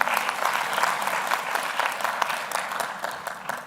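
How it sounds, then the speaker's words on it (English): Graduation audience at Strathmore University claps in a round of applause for a speaker, dense, lively clapping that stays strong and thins toward the close. "Can we have another round of applause for Mrs."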